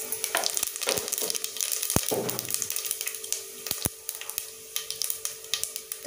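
Bay leaf, cloves and fennel seeds frying in hot oil for an egg biryani, a steady close crackling sizzle with scattered pops and a few stirring scrapes, no talk.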